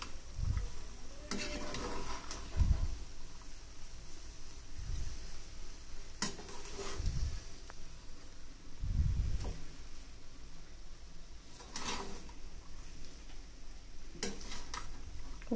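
Prawn biryani being stirred and mixed in a pot produces soft scraping and muffled clunks of a spoon against the metal at irregular intervals over a faint steady background hiss, with no voices.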